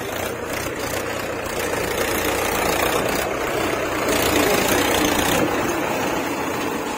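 A tractor engine idles near a market weighing area, a continuous mid-to-low rumble that holds steady throughout with no talking.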